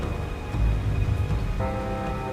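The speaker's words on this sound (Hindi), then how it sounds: "बारिश रात भर नहीं थमी है। आज सुबह से ही लगातार बारिश हो रही है।" Steady, continuous rain in Uttarakhand during a misty morning, a constant patter filling the space with a faint tonal hum in the background.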